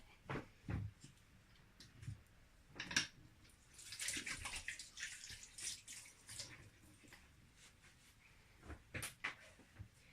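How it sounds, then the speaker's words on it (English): Hands being washed under a running kitchen tap, quiet and close, with a rush of water in the middle and scattered splashes, knocks and clatters around it. "Just gonna wash my hands because I'm cooking chocolate."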